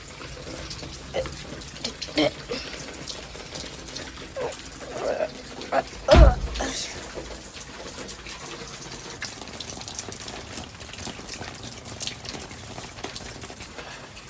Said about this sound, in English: Okay, I'm never going outside in the rain again.